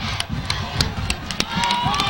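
A crowd at a high school football game cheers steadily from a distance, a dense roar with scattered sharp shouts and claps, while an announcer's voice talks over it.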